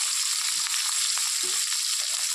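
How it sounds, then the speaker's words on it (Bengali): Fish frying lightly in oil in a pan, with a steady, close sizzle that holds an even level throughout and carries no speech. "খুবই হালকা করে ভাজবো এই মাছটাতে"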